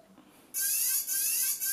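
An FPV video receiver starts a continuous high-pitched electronic beeping tone as a quadcopter is plugged in, loud and steady with slight dips, coming right after a quiet start.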